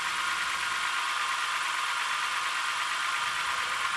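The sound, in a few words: engine valve lifter ticking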